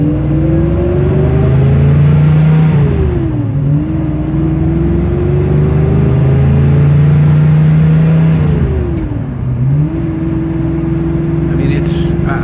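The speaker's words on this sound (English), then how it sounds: "we're going to do a short drive in this really amazing Mustang" A 1969 Ford Mustang drives on a road in Bucks County, its engine droning steadily with rising and falling revs through gear changes, loud and close throughout.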